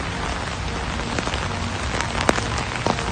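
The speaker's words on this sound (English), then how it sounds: "It is pouring rain and the ponies are outside" Heavy rain pours steadily outdoors at a pony ride park in Los Angeles, a loud, dense hiss with scattered sharper drops and splashes standing out over the constant downpour.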